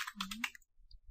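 Typing on a computer keyboard while entering a payload command in Kali Linux, a quick cluster of clicky keystrokes in the first half-second followed by a few faint scattered taps, close and fairly quiet.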